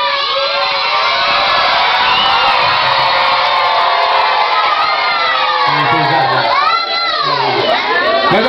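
Football fans in a stadium roar and chant in a dense, loud, continuous wall of crowd noise, with whistles and shrill rising cries over it.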